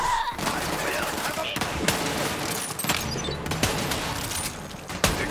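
Dense, rapid gunfire fills a Borderlands 3 fight, with sharp cracks repeating over constant battle noise and a few louder reports standing out.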